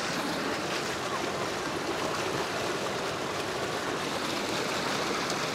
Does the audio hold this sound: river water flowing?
yes